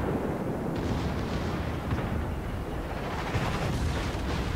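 Enemy battleship gunfire in the naval game World of Warships: a dense, continuous roar of heavy booms and rumbling blasts, loud and unbroken throughout with no speech.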